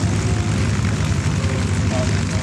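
P-51 Mustang, a North American Aviation straight-wing WWII fighter, flying at an airshow, its engine a steady broadband roar with a low drone, continuous and fairly loud throughout.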